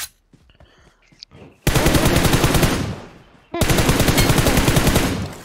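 Rapid video game gunfire in two sustained, loud bursts, each lasting about two seconds, with quieter scattered shots and clicks before them.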